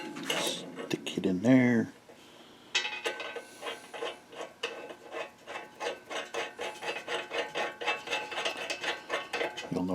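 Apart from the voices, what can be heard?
nut being put into a wrench, metal clinking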